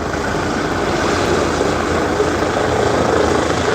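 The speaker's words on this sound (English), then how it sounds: "here comes another helicopter" Steady, loud rotor and engine roar of a helicopter flying close overhead at a crash scene, filling the whole clip without a break.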